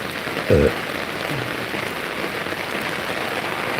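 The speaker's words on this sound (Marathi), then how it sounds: "बघा पाऊस बघा एकच नंबर" Steady rain patters on a surface in an even wash of noise, with a brief dull thump early on and no talking.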